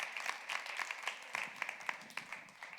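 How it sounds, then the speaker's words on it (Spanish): A church congregation at a women's night vigil claps in a dense, even burst of applause, moderately distant, with faint voices underneath. "Le da ese aplauso fuerte"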